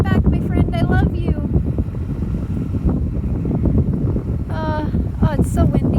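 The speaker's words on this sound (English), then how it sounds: "Oh, it's so windy." Wind gusts buffet an outdoor microphone with a steady low rumble throughout, while a person talks over it near the water where a turtle surfaces.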